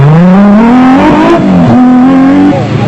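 A Nissan Hardbody Super Truck racing off-road in South Africa's Sugarbelt race, its engine loud and close, revving with rising pitch and shifting gears.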